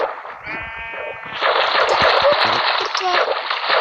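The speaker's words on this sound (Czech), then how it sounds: "Ovce! Ovce!" Sheep bleating in the video game Minecraft, a short wavering bleat near the start followed by a busier burst of noise, with a person's voice heard in the background.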